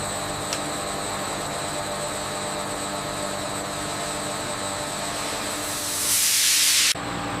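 Steady pressurized hiss from a pineapple juice factory's microfiltration system during backflush cleaning, a continuous industrial drone that swells into a louder rushing burst near the end before cutting off abruptly.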